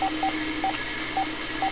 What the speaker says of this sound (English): Okay, I have it dialing,